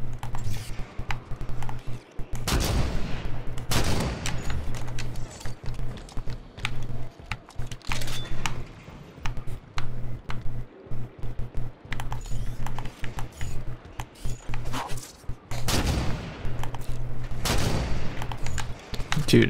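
Halo 5 combat on Legendary difficulty: a steady crackle of distant rifle fire and scattered impacts runs throughout, with a few louder close shots standing out over a low hum.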